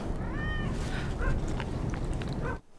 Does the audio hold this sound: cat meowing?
yes